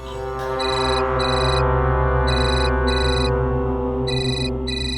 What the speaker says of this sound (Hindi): किसी तन्वी का फोन आ रहा है।